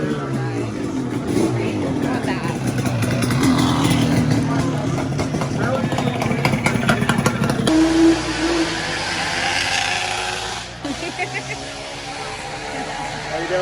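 Two-stroke motorcycles such as Suzuki triples rev and idle at a Deals Gap rally resort, a dense rumbling engine roar with a sharper revving burst, then a steadier drone under a nearby voice.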